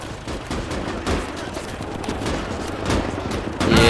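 Battle gunfire rattles through Call To Arms - Gates Of Hell: Ost Front, with repeated sharp shots and short bursts scattered irregularly across the clip, mid-distance and fairly loud, a heavier burst near the end.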